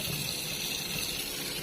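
Water runs steadily and strongly from a kitchen sink faucet in a simple house, a continuous close gushing hiss with no voices.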